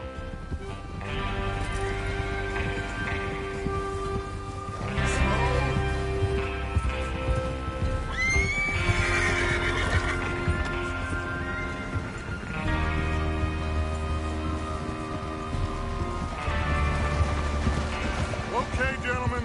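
Horses in a PS4 game neigh and clip-clop at a gallop, with repeated whinnies rising over the thudding hooves, mixed with game voices.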